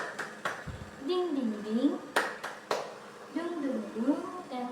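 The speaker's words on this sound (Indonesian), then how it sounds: "mari kita tepuk semangat terlebih dahulu ya" Children clap their hands in a rhythmic chant during a second-grade class lesson, several sharp clap bursts spaced through the clip alongside voices chanting and speaking.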